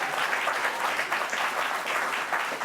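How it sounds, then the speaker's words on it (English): Studio audience applause on a late-night talk show, dense continuous clapping at moderate loudness filling the whole moment without speech. "I always love when the audience claps for my next question."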